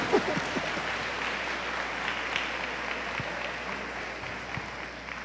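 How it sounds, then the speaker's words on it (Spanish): Audience at a diocesan catechesis congress applauding the Father Rector, a steady, moderately loud crowd clapping in a large room that gradually thins out toward the end, with no talk over it. "denle un aplauso, sí."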